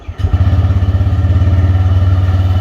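A new TVS Raider 125 motorcycle engine catches and settles into a steady, close, loud idle with a regular low thumping pulse, no talking over it.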